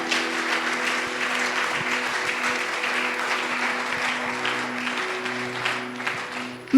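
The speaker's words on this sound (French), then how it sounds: "Acclamons très fort pour le Seigneur." A church congregation at a worship service claps loudly and steadily throughout, a dense continuous applause with a sustained musical tone droning underneath.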